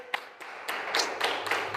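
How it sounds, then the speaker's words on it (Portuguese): A church congregation claps in a steady, rhythmic beat that builds slightly, the claps close and fairly loud with no talk over them. "Cadê as palmas para esse Deus?"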